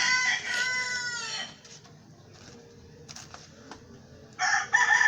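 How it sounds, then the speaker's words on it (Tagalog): A rooster crows loudly and close at the start, with a long harmonic call. Quieter rustling and clucking follow, then a second loud crow or squawk near the end, on a cold rural farm. "kasama ko yung aking mahiwagang manok"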